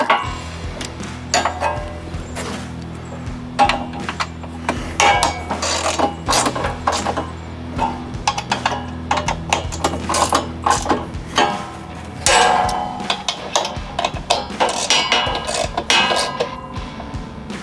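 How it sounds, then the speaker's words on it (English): Ratchet tightening bolts on a Fabtech overhead Molle rack for a Jeep JL, heard as dense, continuous clicking close up, with metallic clinks and rhythmic pawl ticks running steadily throughout and no talk. "all we're gonna do now is just tighten these up to 16 foot-pounds of torque"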